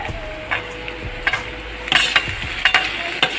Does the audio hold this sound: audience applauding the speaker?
no